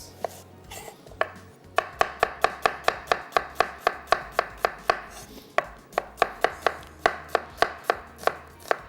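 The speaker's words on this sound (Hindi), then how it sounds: "तो अब इसको हमने करना है स्लाइस।" Small onions sliced with a knife on a cutting board, making a quick, even run of crisp, close chopping taps that pauses once and then carries on.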